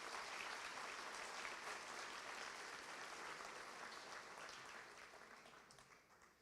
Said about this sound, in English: I think that's worth a clap.